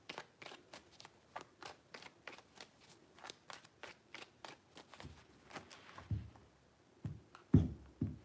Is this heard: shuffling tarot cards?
yes